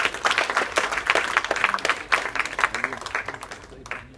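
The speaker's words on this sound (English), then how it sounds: "Can we have a huge round of applause for him" Ladies and gentlemen at a business summit in New Delhi give a dense, steady round of applause, many hands clapping together at close range for the full stretch, fading slightly near the end.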